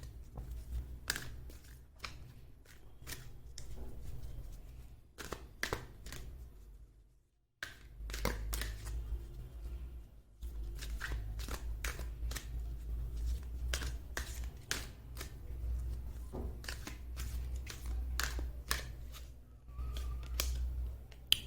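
Tarot cards handled and shuffled at close range: quiet, crisp snaps and taps come in uneven bursts, with a short pause partway through.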